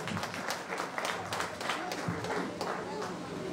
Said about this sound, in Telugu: మన మహిళా మండలందరికీ ఒకసారి చప్పట్లు కొట్టాలి